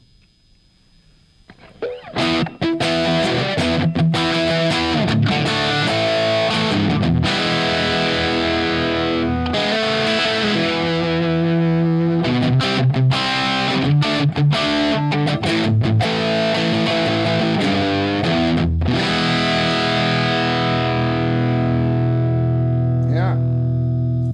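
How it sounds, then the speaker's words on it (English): Heavily distorted electric guitar through a Pack Rat distortion pedal plays sustained chords and riffs, loud and gritty with a thick, saturated tone that rings out continuously. "Let's get a little distortion out of that."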